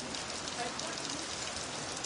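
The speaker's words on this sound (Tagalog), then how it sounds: "Ulan man." Rain falls steadily in a soft, even patter, faint and continuous throughout.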